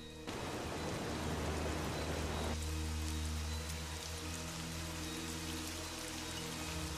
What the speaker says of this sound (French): C'est vrai, il pleut tout le temps.